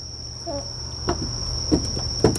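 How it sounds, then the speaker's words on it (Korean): A steady, high, shrill cricket trill runs unbroken throughout on a terrace at night, with a few soft bumps and rustles underneath. "이 소리 지금 귀뚜라미 소리야"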